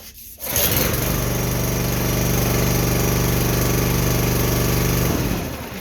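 A Kohler engine on a Huskee log splitter starts up and runs steadily, a loud, close, even drone with a strong low hum that holds for several seconds before dropping off near the end.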